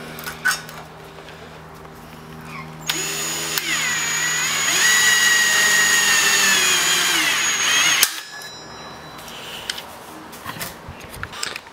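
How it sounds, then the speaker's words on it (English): A pop rivet tool sets rivets into the bottom bracket of a gas bottle holder: sharp clicks and snaps, then a loud whirring power-tool run of about five seconds ending abruptly, followed by scattered light clanks. "Now we're going to pop rivet the bottom bracket."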